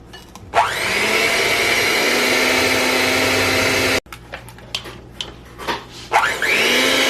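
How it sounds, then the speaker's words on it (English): Electric mixer beating cream cheese for a New York cheesecake, a loud steady motor whine that spins up, runs continuously, cuts out abruptly, then restarts after a few brief clattering knocks. "So you just want to stay mixing this until it gets nice and soft"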